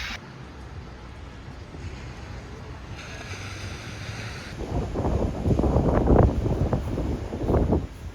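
Surf washes onto Haeundae beach in Busan on a chilly day, a steady low roar with wind buffeting the microphone, growing louder as waves break and rush in toward the end.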